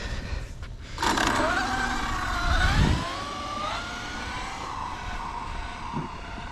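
An Arrma Infraction 6S RC car at full throttle gives a loud rising motor whine with shifting pitch as it passes nearby, then settles into a fainter steady drone.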